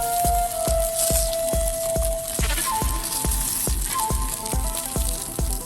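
Takoyaki fry in sesame oil on a Daiso cast-iron takoyaki plate, giving a steady crackling sizzle. A regular thumping beat with tonal music plays loudly over it throughout.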